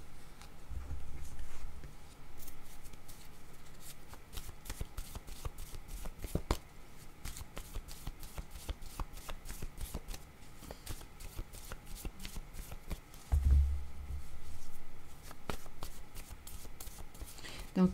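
Cards are shuffled and drawn in a long run of close, rapid riffling clicks and flicks, with soft handling sounds between bursts and a voice speaking at times.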